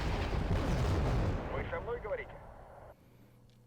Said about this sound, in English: Our BMPs, our T-62s, they are the ones who are providing the heavy fire right here.